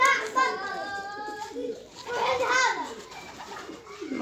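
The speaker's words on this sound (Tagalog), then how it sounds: "Mga ibon." Pigeons cooing nearby on an outing with chickens around, low soft calls mixed with children's voices and people talking over them.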